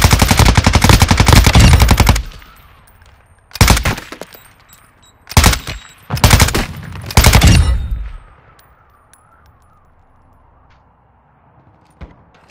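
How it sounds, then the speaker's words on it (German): Heavy gunfire in Call of Duty MW2 DMZ: a long loud burst of automatic fire, then three shorter bursts of shots spaced apart, followed by quieter game ambience and one faint late shot. "Bei meiner Position befinden sich feindliche Operator. Werde beschossen!"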